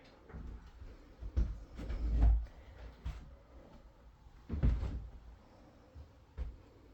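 Heavy split doors of an insulated walk-in cooler in a home meat processing shop, moving with a series of dull thumps, knocks and rattles spread across several seconds, close by and with no voices.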